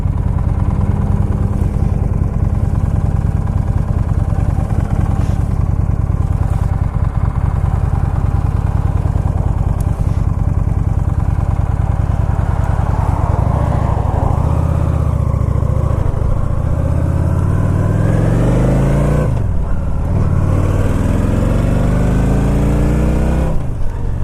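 A motorcycle engine drones steadily while riding, loud and continuous with wind rush, the pitch rising and falling as the rider shifts and accelerates near the end.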